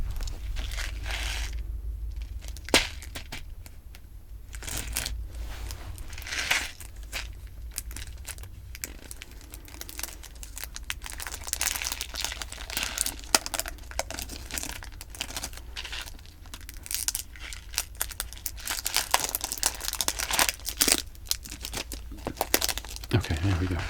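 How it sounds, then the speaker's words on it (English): Crinkling, tearing plastic wrappers on UK candy being ripped open, close and crisp in irregular bursts for the whole stretch, with speech intermittently over the rustling. "See if we can find a way to unwrap these quickly."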